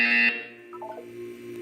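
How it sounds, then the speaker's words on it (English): A loud electronic buzzer from the Portal 2 video game sounds in a short steady blast, then cuts off abruptly, followed by faint tonal game sounds. "You will hear a buzzer."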